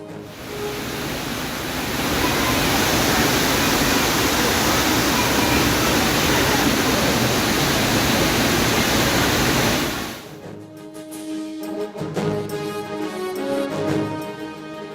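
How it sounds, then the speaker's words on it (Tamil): Heavy rain driven by strong wind in the Chennai, Tiruvallur, Chengalpattu and Kancheepuram area, heard as a loud, dense, steady roar for about ten seconds. It cuts off abruptly and music follows. "சென்னை, திருவள்ளூர், செங்கல்பட்டு, காஞ்சிபுரத்தில் பலத்த காற்றுடன் கனமழை."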